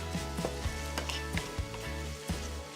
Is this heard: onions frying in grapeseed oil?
yes